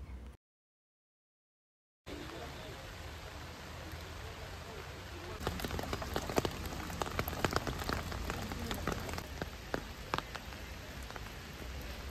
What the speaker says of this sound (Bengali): এই বৃষ্টির আওয়াজটা কি রিল্যাক্সিং না